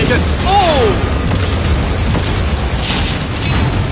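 Cannons fire and smash through yacht storage containers in a challenge, producing a loud, continuous wall of booming and crashing, with a brief voice cutting in near the start.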